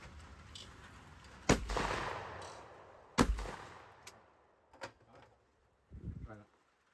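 Two loud shotgun blasts at a trap clay range, each booming sharply and then trailing off, spaced under two seconds apart, followed by a few softer knocks and thuds, with people talking nearby.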